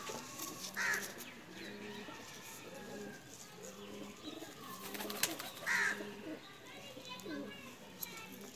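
Soft cooing from golden breeder pigeons repeats in low throaty bursts, heard faintly under a voice and distant children in the background.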